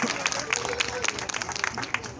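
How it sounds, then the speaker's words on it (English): An afternoon talk audience claps in a dense, steady patter of many hands across the whole stretch, with a murmur of voices mixed underneath. "please give everyone a big round of applause to get our talk started this afternoon."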